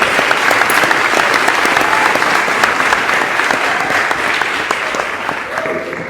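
Loud, sustained audience applause at a college talk at Tougaloo College, a dense roar of many hands clapping that holds steady and eases slightly toward the end.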